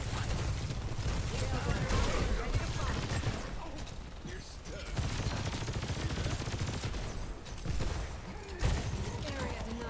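Dense shooter-game combat from Overwatch, Sojourn's railgun among steady gunfire, mechanical clicks and impacts, with an uneven rhythm and a few sharper bursts while a voice talks over it.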